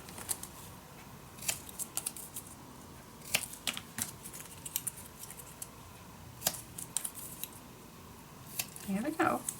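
Scissors snip through paper while trimming pieces for a scrapbook mini album, giving a run of short, crisp cuts in quiet bursts, with a louder rustling flurry at the end.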